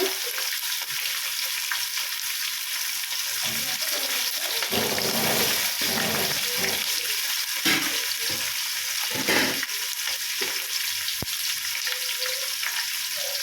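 Chopped tomatoes fry in a hot pan with a steady, close sizzle, while stirring scrapes and bursts of crackle rise and fall over it and no one speaks.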